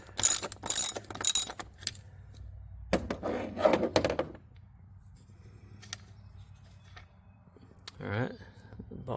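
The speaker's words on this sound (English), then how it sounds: "it's best just to use a 16 millimeter deep well socket" A ratchet with a 16 mm deep well socket works a ball stud loose on a 2025 Ram 1500 Limited, giving bursts of close mechanical clicking in the first half and again briefly near the end, with quieter gaps between.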